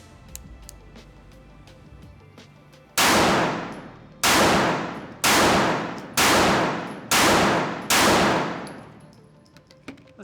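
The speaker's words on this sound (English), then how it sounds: "I was shooting pretty fast" After a quiet start, six sharp, loud shots from a Bul Armory Nightwood handgun ring out during an accuracy test at about 8 or 9 yards. They come in quick succession, roughly one per second, each followed by a short decaying ring.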